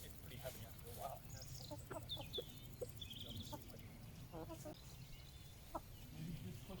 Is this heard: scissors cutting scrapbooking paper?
no